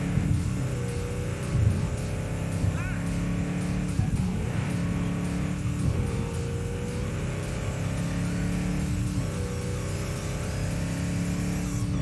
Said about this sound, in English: 190 is the maximum this car can do